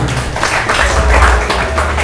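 A loud, dense burst of clapping from a class of Islamic boarding-school students at an open exam on reading the Taqrib kitab, filling the room for two seconds.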